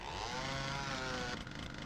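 A buzzing chainsaw in Doom (1993) whines with a wavering, revving pitch that drops off toward the end, fairly close and loud.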